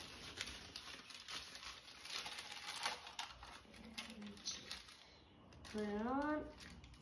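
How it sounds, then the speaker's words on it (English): Paper crumpled by hand close up gives dense, uneven crackling and crinkling for several seconds, with a brief pitched squeak near the end. "So I'm gonna crumple it up."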